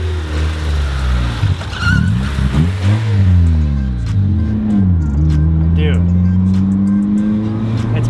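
A Honda Civic EG fitted with new, stiffer suspension backs out: close engine drone rising and falling through low gears, loud and continuous, with people talking over it.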